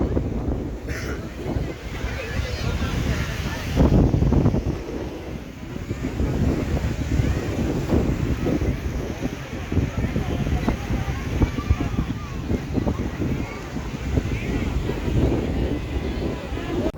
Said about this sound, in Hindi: तो भाई बहुत तेज हवा है.